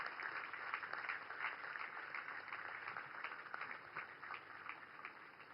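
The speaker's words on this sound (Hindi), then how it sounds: "तालियां फुल वॉल्यूम पे बजाइए" Loud, sustained applause from a large crowd welcoming the Indian Navy ships INS Surat, INS Nilgiri and INS Vaghsheer. Dense clapping fills the whole stretch at steady strength.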